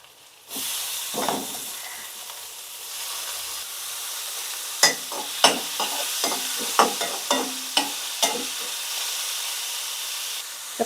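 Onions and tomatoes with ginger garlic paste frying in a pan, a continuous close sizzle broken by a series of sharp stirring scrapes.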